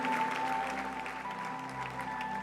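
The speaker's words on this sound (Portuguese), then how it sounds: "Vamos dar mais uma salva de palmas, essa turma linda" A congregation applauds at a youth church service, a steady, soft, sustained patter of clapping with faint held tones underneath.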